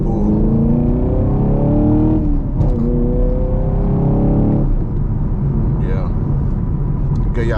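A Chevrolet Camaro SS 1LE pulls hard, its engine note rising steadily in pitch under a constant deep road rumble, heard from inside the car as someone talks over it.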